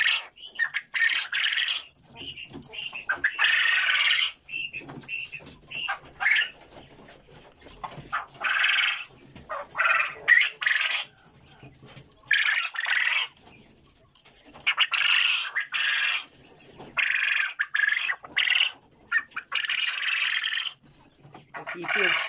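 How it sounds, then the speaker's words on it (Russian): Caged quails chirp and twitter in bursts, with busy high calls overlapping in an irregular, fairly close chatter through the whole stretch. "Какие певчие у меня птички."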